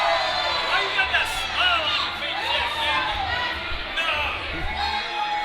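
Wrestling event crowd cheering and chattering steadily throughout, a dense wash of many voices with occasional whoops rising above it.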